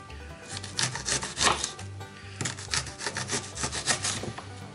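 A knife slices an onion into rings about half a centimetre to a centimetre thick on a wooden cutting board, making steady rasping, crunchy strokes with thuddy taps on the board, close and continuous, with no voices.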